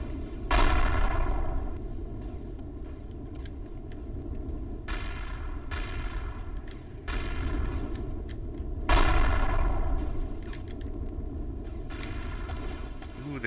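Smaller guns fire in a video game with repeated sharp shots at irregular intervals, each decaying over a steady mechanical drone, while a voice talks over it.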